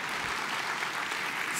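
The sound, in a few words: audience applauding at church service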